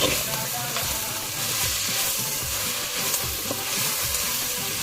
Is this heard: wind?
no